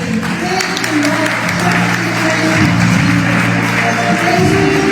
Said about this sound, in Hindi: सारे मिलकर ताली बजाएंगे।